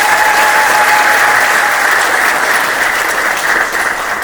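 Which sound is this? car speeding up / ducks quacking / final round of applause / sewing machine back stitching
final round of applause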